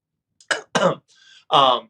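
A few short, sharp coughs close up, separated by brief pauses, with a small throat-clearing sound in between.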